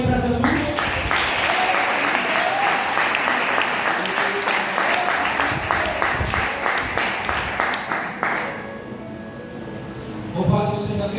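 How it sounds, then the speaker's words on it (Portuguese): A church congregation claps together in sustained applause for Jesus, dense steady clapping that fades out near the end, with voices mixed in. "E as palmas venham aí para Jesus."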